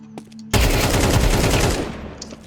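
Sustained automatic gunfire in Counter-Strike 2, a loud continuous burst of rapid shots lasting nearly two seconds, with a few faint clicks before and after.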